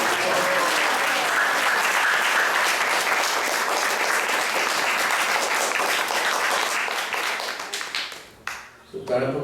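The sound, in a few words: audience applause for Tara Prabhu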